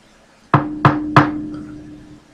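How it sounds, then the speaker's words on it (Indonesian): Three firm knocks on a wooden door in quick succession, loud and close, each with a short resonant ring, followed by quiet. "Suara ketukan itu memenuhi ruangan."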